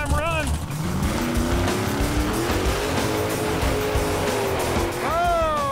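A NASCAR race car engine on its first run, roaring loud and close with a steady heavy drone and rising revs, briefly whining up at the start and again near the end.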